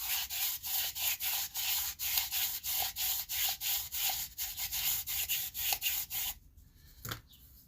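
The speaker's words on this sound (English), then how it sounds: "Gonna sandpaper the inside of this, scuff it up a little bit." Sandpaper scuffing the inside of a plastic tube for a DIY bear can, steady rhythmic back-and-forth rubbing strokes, close and even, stopping near the end.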